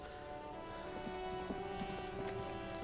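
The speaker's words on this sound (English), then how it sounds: "It's raining again." Steady rain falls in the video game Disco Elysium, a continuous soft hiss of drops on surfaces. A low sustained ambient music tone hums beneath it, with no voices.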